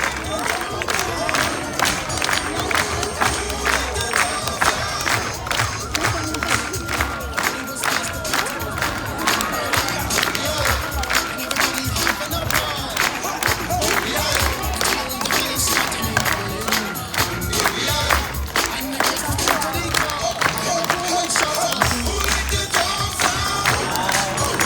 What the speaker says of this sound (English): When you guys hear that beat, clap along.